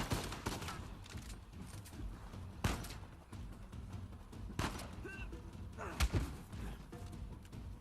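Gunfire in Uncharted 4: A Thief's End, scattered bursts of shots and heavy thuds through a busy, noisy firefight, moderately loud with a few sharper impacts standing out.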